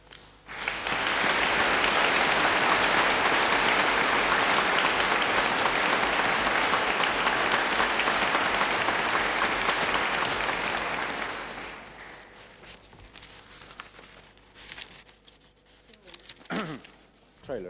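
A studio audience at a 1979 quiz show final applauds loudly and steadily for about eleven seconds, then the clapping fades to scattered claps and faint movement.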